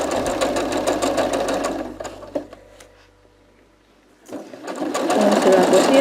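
A sewing machine stitches a red crochet cushion: a rapid close mechanical rattle runs for about two seconds, stops for a quiet pause with small handling clicks, then resumes loudly; a voice speaks around the machine.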